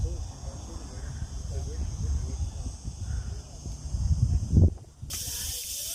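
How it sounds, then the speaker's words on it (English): Insects chirp outdoors in the hillside town of Mijas, Andalucia, a faint steady high-pitched buzzing over low wind and handling rumble, with a brief knock near the end. "the sound of the insects is becoming louder and louder."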